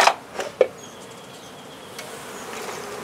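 Honeybees buzz faintly around an exposed beehive during a removal, a thin steady drone behind a few sharp clicks and knocks near the start, with no talking.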